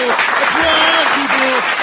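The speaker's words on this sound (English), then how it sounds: "Applause, people." A live-show crowd applauds, a dense burst of clapping under loud, drawn-out cheers and shouts.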